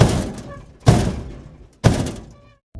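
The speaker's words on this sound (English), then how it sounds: "A loud banging on the door" Three heavy, booming bangs on a door, spaced about a second apart, each ringing out briefly before the next.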